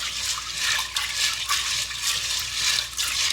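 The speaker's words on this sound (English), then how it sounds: "I'm just rubbing the beans a little bit just to get up any little bit of excess grit or dirt" Dry red beans rinsed and rubbed together in water, a steady wet swishing and gritty rustle in repeated strokes, close up and fairly loud.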